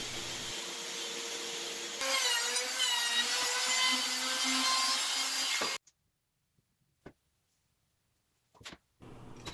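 A saw cuts through 2x4 wood scraps with a steady rasping drone that stops abruptly, followed by near silence and a few short knocks.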